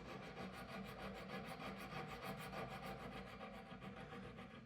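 A Lee Valley finger file sands wood and dried glue in a fast, steady, rhythmic rasping scrub, close and quiet, with repeated back-and-forth strokes and no voices.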